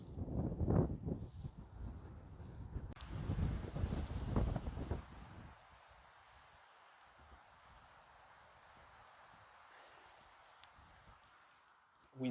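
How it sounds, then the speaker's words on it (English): Outdoors by the Molonglo River, wind gusts buffet the microphone in loud rumbling bursts for the first few seconds, then drop to a faint steady breeze. "Wind's picking up once again."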